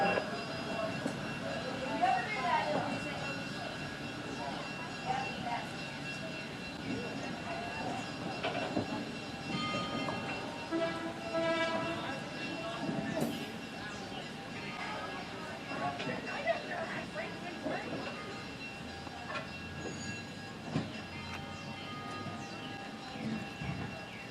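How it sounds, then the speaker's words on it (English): A heritage railway train moves slowly in and out of a museum yard on opening day, with a low, distant rumble and faint clanks over a steady background. "I was able to get some shots of the train pulling in and out of the yard"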